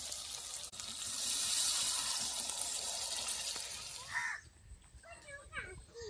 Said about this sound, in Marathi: पाणी पण ओतून घेते आता.